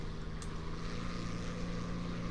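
Steady droning propeller engine of a small airplane in a flight video game, a constant low hum running throughout without pause.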